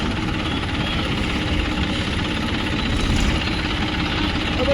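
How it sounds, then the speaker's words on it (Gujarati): Tractor engine running at a steady idle close by, a continuous low chugging rumble with rapid knocking pulses that holds throughout without talk. "વારામાં મૂકી દઈએ ટ્રેક્ટર"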